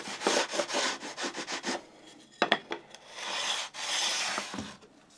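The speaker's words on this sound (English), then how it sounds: "If you want to clean up that top edge and keep it square, just a piece of sandpaper like this." Sandpaper rubbed by hand along the edge of a wooden tongue-and-groove board: a run of quick, close rasping strokes, then a few sharper scrapes and a longer steady rub, all close and fairly quiet.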